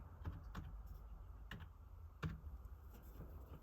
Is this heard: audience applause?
no